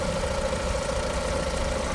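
A 2013 Chevrolet Lacetti 1.6 automatic, fitted with methane gas equipment and showing 344,000 km, idles at an Andijan car market with a steady, loud, even engine hum and slight rattling vibration, heard alone.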